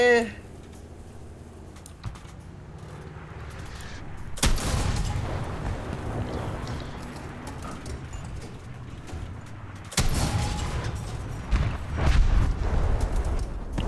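Israeli tank cannon fire in the War Thunder video game, two sharp booming shots several seconds apart, each followed by rumbling engine and battle noise, with low murmuring underneath.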